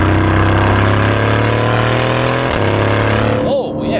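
An Aston Martin Vantage engine in Sport Plus drones loudly and steadily from inside the car, its tone dropping sharply at a quick 8-speed gear change, then settling again before easing off at the end.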